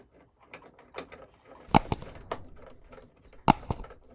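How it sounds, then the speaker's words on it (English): A small screwdriver tightens a screw on the foot of a quilting machine, making a quiet, close series of sparse clicks and a couple of sharper metallic taps. "So I'm just tightening up the screw."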